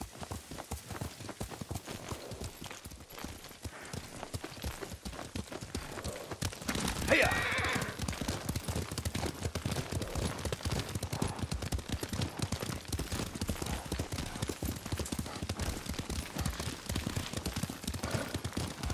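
Horse hooves clatter in a fast, continuous gallop in the video game Ghost of Tsushima, with a brief whinny partway through and occasional voices over the rhythmic pounding.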